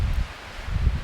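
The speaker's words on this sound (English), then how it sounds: "It's a little windy." Wind gusts over a mountain trail near Gore Lake and Red Peak outside Vail, Colorado, in fall, a brief low buffeting rumble with a soft rustle, close to the microphone, with no talking.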